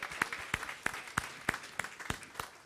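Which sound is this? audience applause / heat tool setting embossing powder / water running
audience applause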